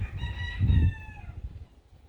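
A backyard rooster crows once, a loud, drawn-out harmonic call that tapers off, followed by quieter clucking and low rustling nearby.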